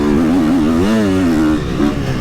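An enduro or motocross motorcycle with a quiet silencer passes by, its engine tone rising and falling in a smooth revving pitch sweep, fairly loud and steady with no talk over it.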